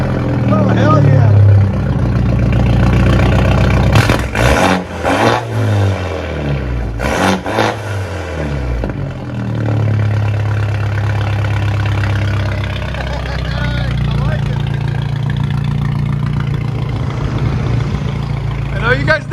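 A straight-piped BMW 5 Series engine idles loudly and close, a deep steady rumble with a couple of brief blips in pitch; a voice talks over it.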